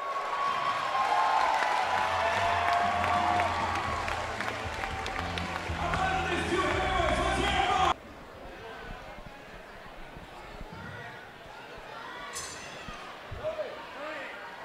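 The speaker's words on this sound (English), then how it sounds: "the crowd really getting into it" A crowd roars and cheers at a live eight-round boxing match in Gilford, New Hampshire, loud and sustained for several seconds before dropping off to a quieter hall murmur.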